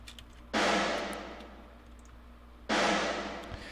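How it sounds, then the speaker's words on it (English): Snare bomb effect for rock or metal mixes, heard on its own: two big, booming, noisy hits about two seconds apart, each with a long washy decay. "what I have going on in some parts is this snare bomb effect"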